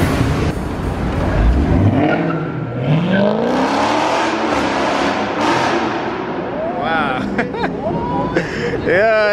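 A loud BMW M6 sports car engine roars and revs close by, the sound sweeping up and down in pitch, with excited voices talking over it and a short burst of revving near the end.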